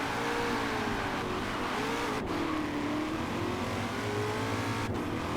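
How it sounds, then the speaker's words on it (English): A 2020 Shelby GT500 Mustang, rear-wheel drive and powerful, roars steadily through a racing video game test track, its engine note rising and falling with gear shifts, loud and continuous with no talk. "the next car is the 2020 Shelby GT 500"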